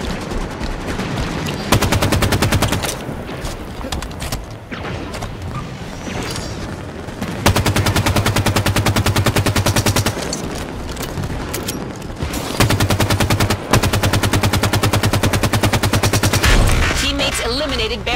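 Heavy gunfire in Halo 5 Warzone: sustained automatic bursts and rapid volleys, loud and close, broken by short pauses and booms, with game voice lines over the shooting.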